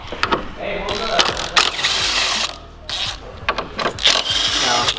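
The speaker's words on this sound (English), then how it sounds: "we're gonna use 13 millimeter to take these 3 off" A 13 mm wrench ratchets and clicks as bolts come loose on a BMW E92 M3 during a coilover install, with close metallic rubbing and clinks in an irregular rhythm.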